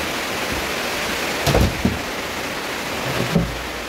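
Rain falls steadily while rainwater is collected in a barrel, a dense even hiss with a few brief knocks and splashes close by.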